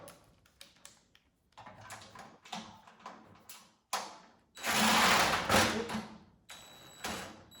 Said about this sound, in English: We're going to put the screws in right there.